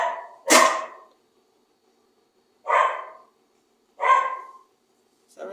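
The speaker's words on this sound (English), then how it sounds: "Oh, sorry for the dog barking." Dog barking indoors at some distance, four separate barks with long gaps between them and a fifth just starting at the end.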